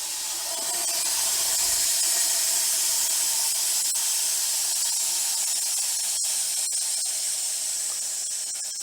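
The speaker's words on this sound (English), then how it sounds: "And release the vacuum here." Air rushes into a freeze dryer chamber as its vacuum is released, a loud steady hiss that holds for several seconds and tapers only slightly toward the end.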